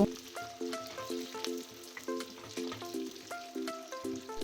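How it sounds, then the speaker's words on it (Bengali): Onions and capsicum fry in a pan for soya chilli, a soft, steady sizzle with light clinks of stirring, faint and close. "এরপর পেঁয়াজ আর ক্যাপসিকামগুলো দেব। 2 মিনিট ভেজে নেব।"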